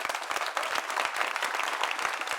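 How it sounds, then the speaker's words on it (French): Audience on a television talk show breaks into lively, continuous applause, crisp individual claps blending into a full close-up wash. "Applaudissements pour vous-même."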